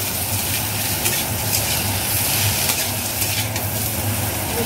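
Bitter gourd fries in oil in a pan for Bengali shukto, a constant loud sizzle with faint scraping of stirring through it, no voices.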